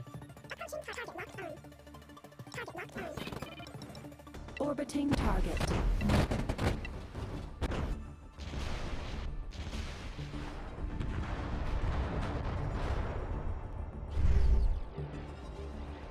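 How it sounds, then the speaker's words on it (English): A large explosion booms in a space combat video game battle against pirates, a loud broadband blast around the five-second mark with further crashing impacts and a second burst near the end, all under game noise. "That was a big explosion."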